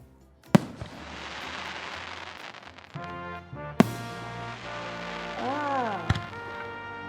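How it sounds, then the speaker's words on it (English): Fireworks in a children's cartoon for the 4th of July: sharp bursts at the start and again near four seconds, followed by crackling and whistling rises, mixed with background music. "It's fireworks!"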